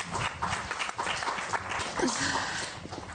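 At a political convention on immigration, the audience applauds Rachida Dati's arrival with moderate clapping that is fairly distant and mixed with background voices and some shuffling.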